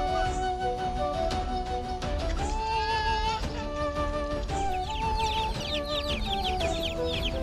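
Domestic chickens cluck repeatedly in a rural farmyard, the calls overlapping in a busy, moderately close chorus that runs without pause.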